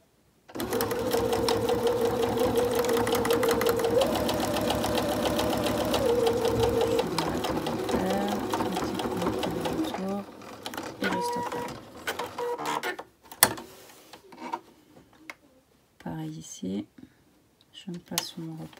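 A domestic sewing machine stitching a fabric face mask runs in a long continuous whirring burst, then breaks into short stop-start runs, close and fairly loud.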